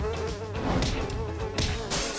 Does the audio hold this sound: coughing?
no